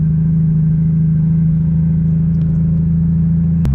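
A 600-horsepower Lexus IS300 engine warms up at low, steady RPM, giving a loud, continuous low hum with no speech, ending in a sudden sharp click or thump near the finish.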